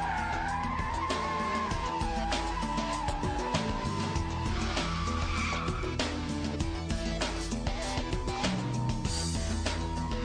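A car power-slides in a wide circle, its tires squealing and skidding steadily for about ten seconds over a loud, revving engine.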